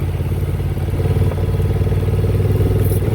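A 2024 Honda Transalp 750 rides off-road with a loud, close engine drone and rumbling throughout, rough clatter and knocks from the uneven ground on top.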